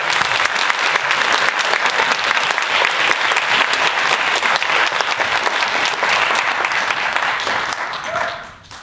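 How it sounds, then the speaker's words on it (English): A conference audience gives a long, loud round of applause, steady and dense for about eight seconds before it tapers off near the end. "we have a round of applause for her"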